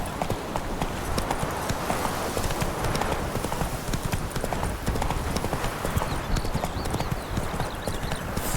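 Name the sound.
horse Roach galloping in The Witcher 3 video game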